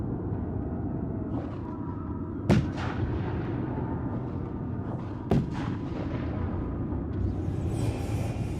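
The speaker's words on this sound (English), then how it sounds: "A relentless bombardment here." Distant artillery bombardment in a strategy video game, two sharp booming impacts a few seconds apart over a steady low rumble of battle, fairly faint overall.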